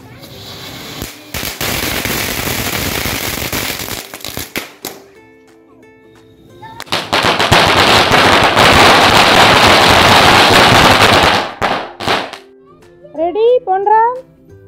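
Firecrackers bursting at a Karthigai festival celebration at home, loud dense crackling volleys in two long bursts with a short pause between, followed by someone talking nearby.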